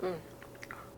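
Crunchy raw ramen noodle snack is chewed in a few sharp, crackly bites right after a brief voice, close and fairly soft.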